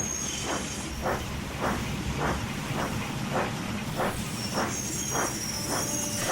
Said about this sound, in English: And he puffed away to collect his next train.